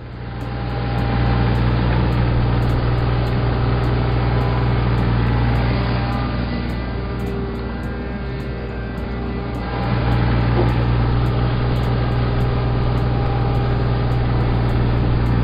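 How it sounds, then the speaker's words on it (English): A tractor engine running at a steady low idle, a continuous droning hum with a constant tone that softens briefly midway before returning to full strength. "Tractor."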